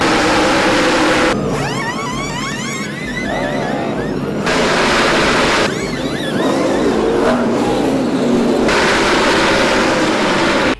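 NASCAR stock cars roaring past at the Coca-Cola 600, engines rising and falling in pitch as they sweep by in waves, loud and close, with crowd noise beneath.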